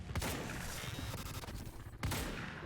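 Rapid gunfire in the video game Quantum Break, a dense fusillade of overlapping shots at low level, with louder bursts at the start and again near the end.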